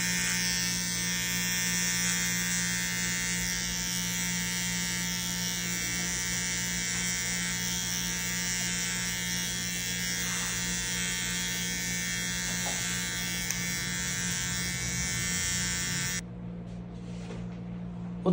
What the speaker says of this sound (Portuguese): Usar também agora a máquina de acabamento